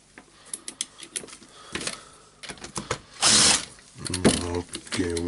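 A cordless drill spins out screws from a Hilti TE905-AVR breaker in short ratcheting bursts with clicks and pauses, ending in a louder sustained whir, close up.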